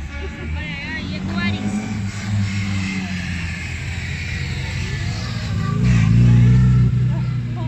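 Old vintage cars, including a Jaguar, idle and drive past at an outdoor classic car show, with low engine rumble throughout that swells louder near the end, mixed with crowd chatter and nearby voices.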